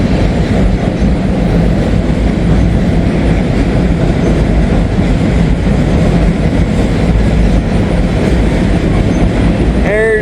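A long freight train rolls past on the far track, a continuous loud rumble with clattering wheels and a faint squeal near the end.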